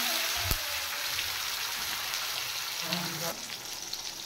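Chopped tomatoes hitting hot oil seasoned with cumin seeds and asafoetida in a pan for a kakrol and mung dal dish: steady close sizzling and frying crackle with a sharp tick near the start and a brief clatter toward the end.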